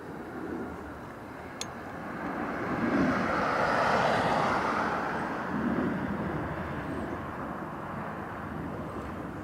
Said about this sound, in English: Ryanair Max 8 next to land in from Sevilla